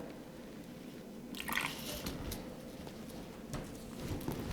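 Homemade chalk paint being stirred in a container after water is added, a steady close wet sloshing and squishing with a few louder scraping strokes, no voices.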